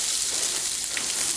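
Onions frying and caramelizing in a pan for fried onion burgers, past the translucent stage, give a steady, close, bright sizzle that holds evenly throughout with no pauses.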